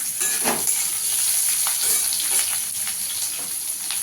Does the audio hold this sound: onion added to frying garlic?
yes